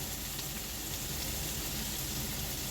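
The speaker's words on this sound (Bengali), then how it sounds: "হালকা তাপে ভালো করে ভেজে নিতে হবে। পেঁয়াজের কাঁচা কাঁচা ভাবটা দূর করে নিতে হবে।" A steady, dense sizzle of onions frying over low heat in a pan, even and continuous with no voices.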